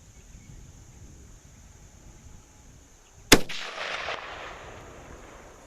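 A single sharp, loud crack from a Remington 03-A3 rifle fired outdoors, followed by a short rolling echo and wind noise; quiet background beforehand, no talk.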